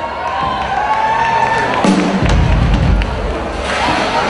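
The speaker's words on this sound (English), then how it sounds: "Give yourselves a round of applause." A concert crowd at a senior show claps and cheers, a loud, continuous wash of applause with whoops and a few thuds rising midway.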